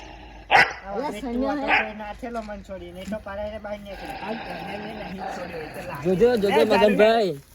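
A village dog barks a few times, loud and fairly near, under steady talk from several people in a rural setting.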